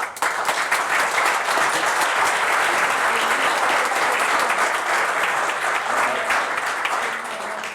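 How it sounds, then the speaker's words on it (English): A council chamber audience applauds city safety personnel, dense sustained clapping that stays loud and even throughout before easing slightly at the end. "So let's give them a round of applause"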